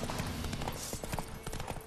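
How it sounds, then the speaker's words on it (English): Horse hooves clip-clop in The Witcher 3 video game as the horse covers ground, a quick irregular patter of thuds over a busy ambient background, fairly close. "It doesn't take too long to cover ground on the horse."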